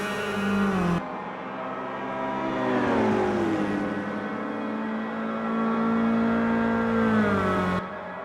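Caterham Academy race car in Automobilista 2, its engine loud and close, revving alone with a steady high whine that rises and falls through gear changes, then cuts off abruptly near the end.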